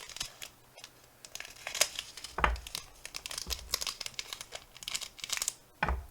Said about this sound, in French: vous avez le bruit du papier, pas du plastique.